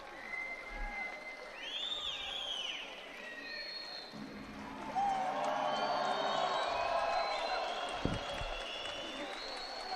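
Spectators at a judo Grand Prix bout in Ulaanbaatar break into applause and cheers, a moderate crowd roar that swells midway, with a commentator talking over it.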